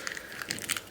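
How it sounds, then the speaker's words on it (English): Small plastic bag crinkled in the hands during a septum piercing jewelry change, a faint quick rustle of soft crackles lasting under a second. "I like to put it into a little plastic bag just so that you don't lose it."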